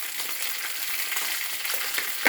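Green chillies, lightly salted, fry on a medium flame in a pan for bottle gourd chutney, giving a steady close sizzling hiss throughout.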